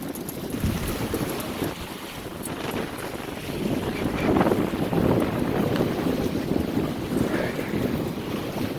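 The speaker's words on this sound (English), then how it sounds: "Doing a little solo sailing today." A sailboat moves through the wind with steady, loud wind buffeting and a rush of water and waves along the hull, and no one speaking.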